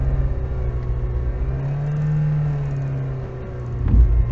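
Lada Niva 4x4 on mud-terrain tires and self-locking differentials, revving in first low gear while stuck in mud: a close, steady engine drone that rises briefly in pitch, eases off, then ends with a sharp low thump.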